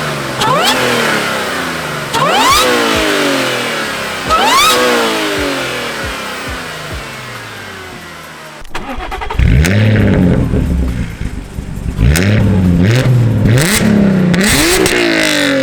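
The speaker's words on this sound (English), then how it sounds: "I'm gonna do a little rev of the car" An Audi S4 with a supercharger revved repeatedly in sharp rising bursts, the whine climbing with each blip, heard loud and close first from one position and then another, with no talking.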